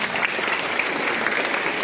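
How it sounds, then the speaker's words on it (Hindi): Dense, steady clapping from an audience at a school morning assembly session, loud and continuous throughout with no break. "एक बार और जोरदार तालियां"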